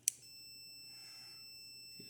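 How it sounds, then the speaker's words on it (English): A multimeter's continuity buzzer, used while testing the blades of a foot switch for a tractor autosteer system, sounds as one steady high electronic tone held for about two seconds after a short click, faint and with no talk. "When the buzzer goes off, that means there's current flow."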